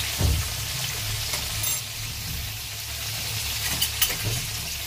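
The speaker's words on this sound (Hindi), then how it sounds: "फ्लेम हमारा हाई है, हाई फ्लेम में हम फ्राई करेंगे।" Mutton paratha filling with salt and turmeric frying on a high flame, a steady, close sizzle with occasional scraping stirs and small pops, no talking.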